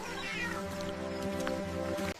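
A cat adopted by a grandmother meows in a drawn-out, wavering cry lasting about two seconds, close and fairly loud, with a steady low hum underneath.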